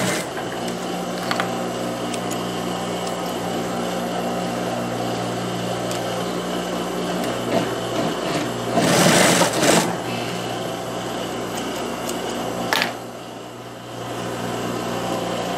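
A sewing machine stitches the back pieces of a knit-fabric pantalona jumpsuit together, a steady mechanical hum running throughout with a brief louder burst of noise partway through.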